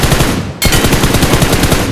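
Rapid automatic gunfire rattles from PUBG Mobile in loud, close bursts, briefly cut off and then resuming as a fast, steady stream of shots.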